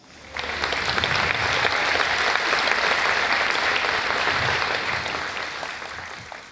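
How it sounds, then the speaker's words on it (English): Gathered audience at an annual community event giving one another a round of applause, a full, even wash of many clapping hands that starts abruptly, holds steady, then fades slightly at the end. "give one another a round of applause"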